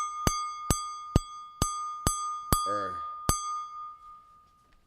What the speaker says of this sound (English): So this ting, if I'm correct, means I'm wrong on these cups, and these are glass and not crystal.